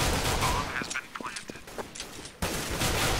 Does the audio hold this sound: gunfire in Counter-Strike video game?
yes